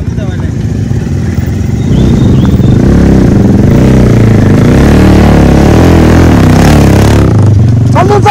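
Motorcycle engine running steadily and loud at a Nepali New Year fair outing, a rough low rumble that swells after the opening seconds with slight revving, while people talk over it.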